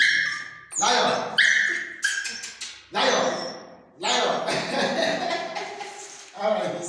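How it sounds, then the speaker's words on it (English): Small dog whimpering and giving a few sharp yips and barks close by indoors, in uneven bursts, with a person talking at times between them. "That's my dog."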